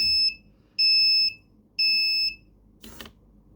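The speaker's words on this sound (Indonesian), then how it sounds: "nah dia suaranya berbeda karena memang alarmnya didesain untuk suaranya dibedakan" A pet feeder's alarm, set off by its servo 2 button, sounds three loud, sustained electronic beeps of equal length with short gaps between them, then a brief clatter follows.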